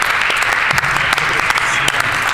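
Steady, loud clapping fills a legislative chamber, dense and even throughout with a few sharper individual claps standing out.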